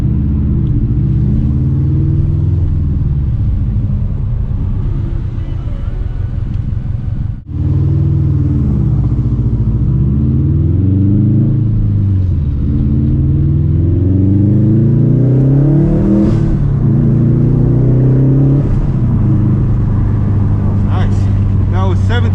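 A turbocharged 2004 Subaru WRX STI engine pulls hard through the gears on a city drive, loud rising and falling revs with a brief drop at a shift, under a voice talking over it.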